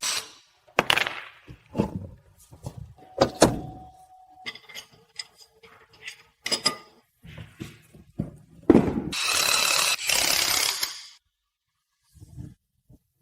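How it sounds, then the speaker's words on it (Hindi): Workshop repair on an imported luxury car's right front outer CV joint, with sharp metallic clanks and taps, a brief tonal whine, and a loud sustained hiss-like power tool burst near the end, all close by. "इस आयातित लग्जरी कार के दाएं सामने के बाहरी सीवी जॉइंट बदलो।"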